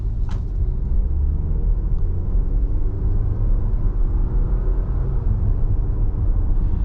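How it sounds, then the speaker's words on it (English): A 2021 Audi Q5 Sportback Prestige with a dual-clutch transmission accelerates uphill at half throttle, heard from inside as a steady low engine and road rumble. "give it one more, maybe half throttle acceleration up this hill"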